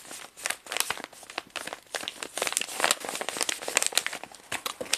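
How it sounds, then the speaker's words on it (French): A small gift package of ground arabica coffee is unwrapped, with dense, continuous paper crinkling and tearing close up, bursts of rustling coming one after another, and no talk. "il me reste un petit paquet de quelque chose à ouvrir qui est là"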